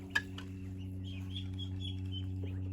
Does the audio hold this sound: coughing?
no